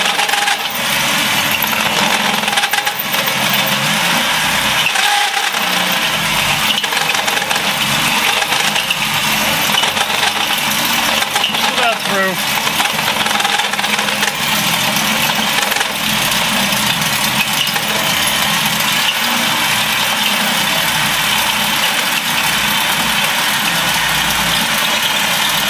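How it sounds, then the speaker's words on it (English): A drill boring through 1/8 inch stainless steel gives a loud, continuous grinding roar with a steady motor whine and uneven rasping surges over about half a minute. "Now we're getting into the body of the drill. It goes through very easily"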